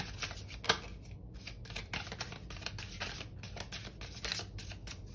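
Playing cards being shuffled in quick riffling bursts, crisp and close, with a few sharp snaps between passes.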